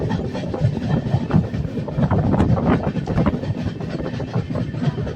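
A train runs along the Konkan coastal line with a steady rumble and rhythmic clickety-clack of wheels over rail joints, close and fairly loud throughout, with no voices.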